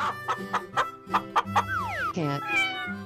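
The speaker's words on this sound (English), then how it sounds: "Chicken." Repeated loud, close clucks from a chicken in a children's animal painting app pulse in a steady rhythm over cheerful background music, followed by a sliding cartoon sound effect and a twinkling chime.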